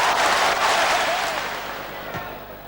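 Football crowd roaring after Ipswich take the lead against Manchester United in a 1994/95 match, a dense, loud stadium swell that slowly fades, with a brief sharp burst near the end.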